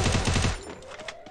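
Bursts of rapid gunfire from a shooter video game, a loud dense volley in the first half second that cuts off, leaving quieter game ambience and faint scattered sounds.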